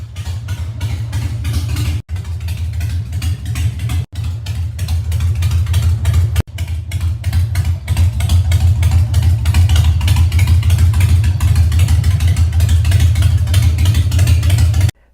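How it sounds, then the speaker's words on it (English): A carbureted Harley-Davidson Twin Cam 88 with short exhaust and aftermarket cams idles loud and close, a deep, heavy lopey rumble with a few brief cutouts before settling into a steady throbbing idle. "It has short exhaust and it's loud."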